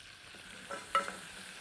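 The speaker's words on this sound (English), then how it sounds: "now the butter's starting to bubble, you can put in our flour" Melted butter bubbles in a pan as flour goes in for a sauce base for goat's cheese cauliflower, a faint soft sizzle with a couple of brief stirring scrapes.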